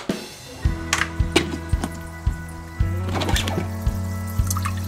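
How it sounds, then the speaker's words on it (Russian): An air compressor aerates water in an AquaPot Duo hydroponic unit, giving a bubbling, trickling wash over a steady low hum, with regular knocking clicks every half second or so, close and moderately loud. "Сейчас мы включим компрессор."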